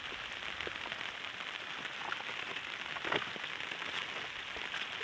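Steady rain hissing down on a surface, a dense continuous patter with occasional louder drops, no voices.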